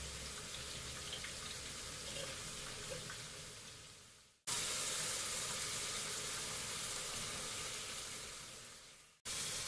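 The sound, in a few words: onions frying in a pan (beresta)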